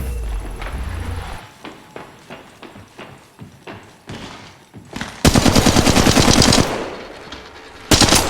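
Rapid bursts of automatic gunfire from the mobile video game Apex Legends Mobile, with rhythmic repeated shots, then a louder, denser volley that cuts off and resumes briefly near the end.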